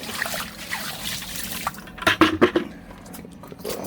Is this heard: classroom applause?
no